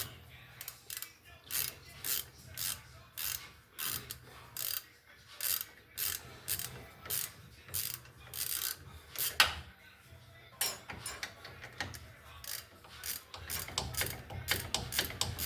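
A flex head ratchet snugs bolts on a 2000 Ford Ranger, rear-wheel drive. The pawl clicks out in quick, regular bursts, close and clear, with brief pauses and a denser run of clicking near the end.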